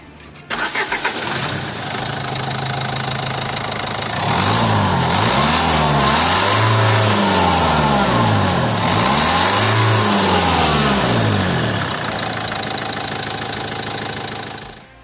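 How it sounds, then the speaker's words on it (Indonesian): A Renault Duster 1.5 dCi turbo diesel 4WD SUV cranks and fires up, settles into a gruff idle, then revs up in repeated rising and falling surges before easing back, loud and close with no talking. "kayak gimana sih suara mesin diesel yang memang cc nggak terlalu besar ini. Foot on the clutch untuk start, kita coba start up dulu."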